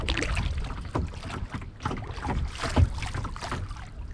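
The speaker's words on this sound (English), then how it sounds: "As far as the kayak goes, even with the wind picking up a little bit, it still rows pretty good heading back." A kayak paddled into a picking-up wind on a spring lake, with rhythmic paddle strokes and splashes under heavy wind buffeting on the microphone, close and fairly loud.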